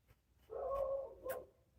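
A dog barks twice nearby, one drawn-out bark followed by a shorter one, standing out against a quiet outdoor background.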